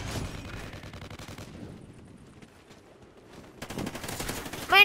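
Rapid automatic gunfire in Call of Duty: Ghosts, dense bursts at the start, a quieter lull, then heavy firing returning loud toward the end.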